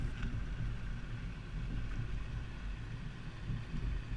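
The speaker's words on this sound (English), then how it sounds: "Now we're at the alternating speed bumps. This will show you how it looks driving on uneven pavement or potholes." A Volkswagen Jetta carrying a Yakima FullBack 2 bike rack rolls over alternating speed bumps, giving a steady low road and wind rumble with faint soft bumps and rattles throughout.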